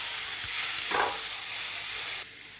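Vegetables sautéing in a hot pan for soya pulao, a close steady sizzle and hiss with a brief stirring scrape midway, the sizzle dropping sharply near the end.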